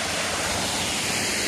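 Kurotaki waterfall in Miki, Japan, roaring as a dense, continuous broadband rush of falling water, loud and close, filling the whole moment with no voices.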